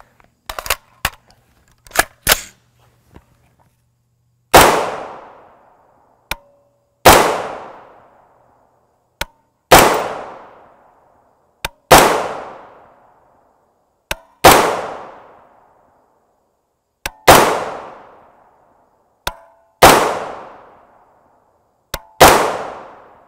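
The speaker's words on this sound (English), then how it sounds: "trying to shoot the spider webs that I see flying down range." Rifle shots from 5.56x45mm 62gr FMJ M855 green-tip Winchester ammunition, fired one at a time at a steady pace at an outdoor range: about eight loud, sharp cracks, each followed by a short ringing decay, with a few fainter clicks and knocks before the first.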